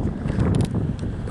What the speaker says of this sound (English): the wind is probably pretty bad